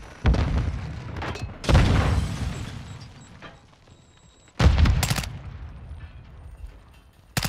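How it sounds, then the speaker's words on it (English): Loud bangs and blasts from a stun grenade in a video game, two strong broadband hits several seconds apart, each trailing into a fading rumble. "Stun grenade out!"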